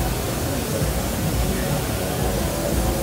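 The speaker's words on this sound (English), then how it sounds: "first we've just got some plain old white noise going in there" An AJH Synth modular module puts out plain white noise, a dense, even hiss across the whole range that runs steadily and loudly without a break.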